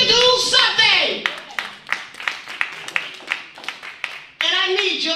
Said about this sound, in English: You can clap, we got to do something.